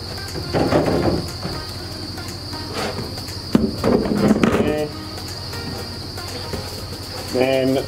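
Steady high-pitched chirring from live crickets in a bin fills the background throughout, with rustling and clattering handling noises and brief bursts of speech over it.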